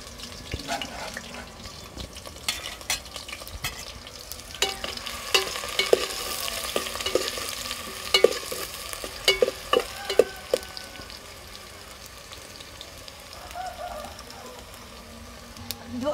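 Chopped onion pieces fry in hot oil in a pot, a soft sizzle under scattered clinks and scrapes of stirring, with sharper taps and knocks in the middle stretch and no talking.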